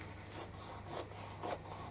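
Scissors cutting through old denim jeans: three rhythmic, soft, close snipping strokes with a slight scraping texture, quiet, with nobody talking.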